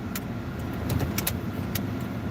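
A small car being parallel parked at night, its engine idling low and steady close by, with a few sharp clicks and light rattles over the rumble and no talking.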